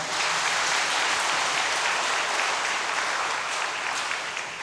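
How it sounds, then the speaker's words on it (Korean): A congregation at a church service applauds after a hymn performance, a steady, even roar of many hands clapping together that runs throughout and tapers slightly at the end. "다시 한번 박수 보내주시겠습니까?"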